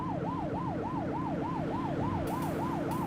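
A police car siren in the video game The Precinct wails in a steady, rapid up-and-down sweep, loud and continuous, over an engine drone.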